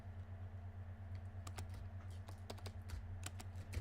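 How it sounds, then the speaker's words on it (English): Rapid clicking keystrokes on a computer keyboard during a farming game session, typed in irregular bursts over a steady low hum, close and moderately quiet. "You can hear my keyboard."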